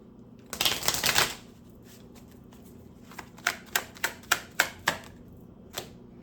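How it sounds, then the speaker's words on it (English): A quick riffle of cards being shuffled, followed by a series of crisp, evenly spaced snaps and taps as the deck is handled. "One more shuffle."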